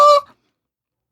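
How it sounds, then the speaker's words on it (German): A single loud hen squawk, a short honking cry that cuts off sharply into silence. "Aber das Huhn hat laut gerufen"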